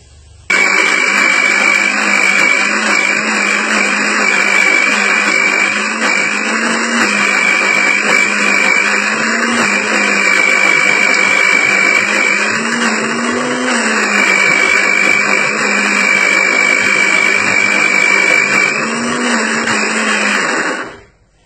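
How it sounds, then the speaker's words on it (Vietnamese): Blender grinding coconut with water for homemade coconut milk: a loud, continuous high-pitched motor whine running steadily for about twenty seconds before cutting off abruptly. "Xay nhuyễn cho mình nhé."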